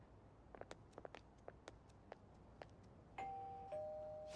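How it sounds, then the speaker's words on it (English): In the Persona 5 video game, a doorbell at a house chimes in two clean electronic tones, the second slightly lower, heard after a series of faint soft taps against a quiet background hum. "You ring the bell."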